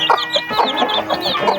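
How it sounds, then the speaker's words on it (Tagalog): Chickens and three-week-old chicks clucking and cheeping close by, a rapid run of short overlapping calls with no talking. "Ang mga sisiw."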